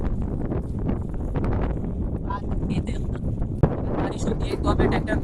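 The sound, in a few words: storm wind blowing over a farm field while a tractor works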